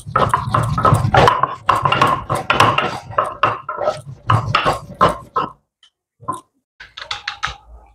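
Garam masala spices are ground by hand in uneven bursts of scraping and knocking, loud and close, with short pauses between strokes and a brief gap before the rhythm resumes.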